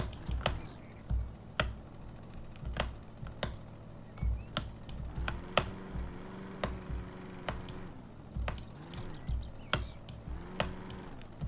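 Computer keyboard typed on in bursts of sharp, close clicks and taps at an uneven pace, with faint background game music running underneath.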